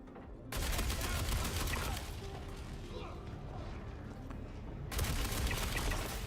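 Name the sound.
NPC gunfire in the video game Star Citizen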